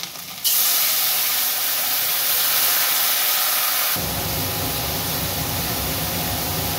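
Water hits a hot pan of coriander and cumin powder for a duck egg, potato and papaya curry. It sets off a sudden loud, steady hiss that runs several seconds, then thickens into a lower, bubbling sizzle.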